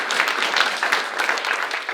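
Steady, dense audience applause fills a symposium hall at the close of the program, many hands clapping at once, close and continuous without a break.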